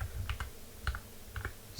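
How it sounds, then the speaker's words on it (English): Quick bursts of close computer keyboard typing, roughly three clusters of clicks, as someone enters a math answer into a practice program. "I'm just typing something in randomly."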